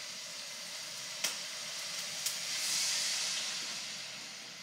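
Cooked rice in a hot wok hisses and steams after a splash of baijiu is added, a soft continuous sizzle with a few sharp clicks and a rising steamy swell, with no talking.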